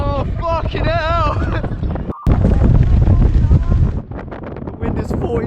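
Strong 40 mph wind in Birmingham buffets the microphone with loud, rumbling gusts, and raised voices talk over it. The roar cuts out briefly near the middle.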